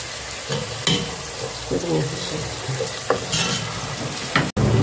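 Garlic and onion fry with a steady close sizzle in a pan while a utensil stirs and scrapes, giving occasional sharper knocks against the metal.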